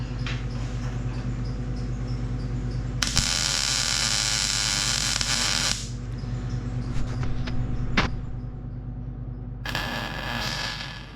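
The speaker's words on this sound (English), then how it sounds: "So now you're gonna throw a little bit of tack weld." A welder lays tack welds on race truck parts, giving off a few bursts of harsh crackling hiss that start and stop over a steady electrical hum, with scattered short clicks in between.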